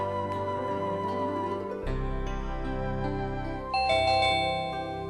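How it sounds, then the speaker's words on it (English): Doorbell chimes in a home kitchen, a few sustained musical ding-dong tones ringing out clearly one after another, with no talking. "she must switch off the gas and only then attend to the doorbell or the phone."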